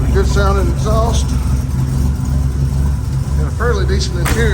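A turbo Buick Grand National, started after years of sitting, idles with a steady low exhaust drone while someone talks over it.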